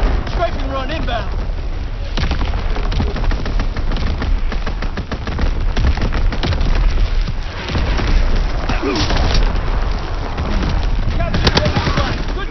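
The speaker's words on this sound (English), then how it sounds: "Division artillery. Target position confirmed. Striking run inbound." Artillery strike in a ranked-play video game match, a dense, continuous barrage of booming explosions and gunfire rumbling loudly throughout, with game voices speaking over it.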